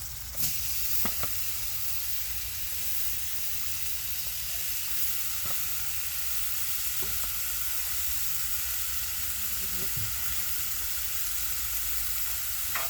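Beef tips sizzling on a hot Blackstone griddle, with a steady, loud, broad hiss lasting the whole time and a few faint clicks and scrapes, no voices.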